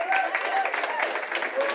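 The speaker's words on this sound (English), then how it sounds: "So another big round of applause for Will." Short burst of audience applause and cheering at a UK Barista Championship 2023 regional heat in Cardiff, dense clapping from a crowd with voices mixed in throughout.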